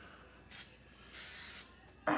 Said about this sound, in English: when you're spraying this stuff, you don't want to spray it at 1 inch.